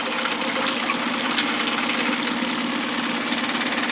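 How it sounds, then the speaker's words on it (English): A Mercury 9.9 four-stroke outboard motor idles steadily in neutral with a low, even rumble and faint mechanical clatter, running close by without change for several seconds. "The engine sounds really good."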